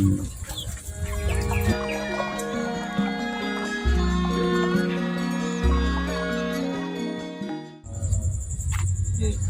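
Chickens raised without chemicals on a farm cluck continuously at close range, with a louder squawk or crow near the end and a voice talking faintly underneath.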